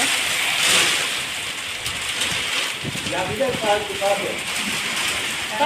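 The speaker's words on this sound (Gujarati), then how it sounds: "ધોધમાર આવ્યો વરસાદ" Heavy rain pouring steadily in a dense hiss, with people talking over it partway through.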